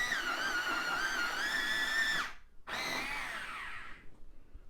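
A scarlet red colored pencil is ground in an electric sharpener, a high whining motor that dips briefly to silence and then restarts, with no talking.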